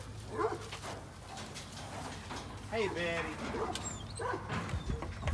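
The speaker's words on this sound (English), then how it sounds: "Next, we have one of our American Pit Bull Terriers. Her name is Black Betty." A young American Pit Bull Terrier named Black Betty whines and yips in short, high bursts under a voice calling to her, with faint birds in the background.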